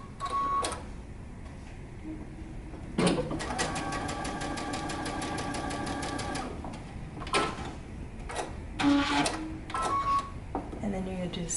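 A sewing machine bastes a folded pleat down on the front of a pair of pants, running in a steady mechanical rattle for several seconds close up, with a person talking before and after the stitching.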